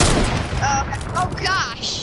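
Gunfire in the battle royale game Fortnite, several booming shots spread across a busy in-game mix, with players' voices talking over it.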